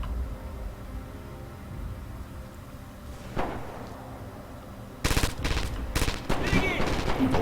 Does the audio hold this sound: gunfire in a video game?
yes